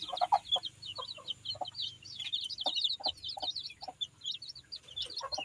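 Newly hatched native chicks cheep in a constant high twittering while chickens give low, evenly spaced clucks, all fairly close and soft with no talk.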